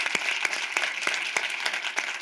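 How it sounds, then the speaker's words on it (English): A studio audience on a health talk show applauds in a steady, rhythmic patter of claps lasting a couple of seconds, moderately loud with no talk over it. "You deserve a round of applause."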